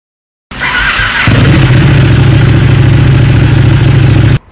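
A Ducati motorcycle engine, its exhaust wrapped tightly around the motor, starts with a brief rising crank and then settles into a loud, steady, lumpy idle, up close and alone for several seconds before cutting off.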